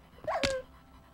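A Minecraft dog gives a short whine-like yelp in a video game, one brief sound, clear and alone, with quiet behind it.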